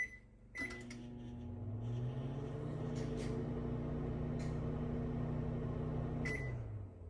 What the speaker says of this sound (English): runs the microwave